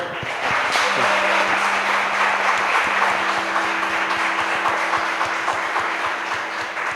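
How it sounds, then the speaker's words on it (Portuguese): A church congregation applauds during a worship service, a steady, dense wash of clapping that fills the whole stretch, with a faint sustained tone humming underneath. "Vamos aplaudir ao Senhor"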